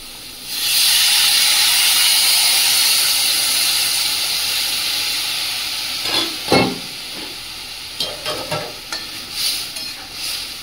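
Water poured into a hot pan of well-fried masala bursts into a loud, steady steam hiss, then fades into softer sizzling broken by scraping stirs and clinks.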